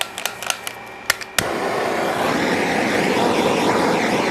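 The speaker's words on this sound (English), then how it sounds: "but I use a propane torch" A propane torch flame roars in a steady, loud broadband rush after a few sharp clicks and taps, continuing without pause.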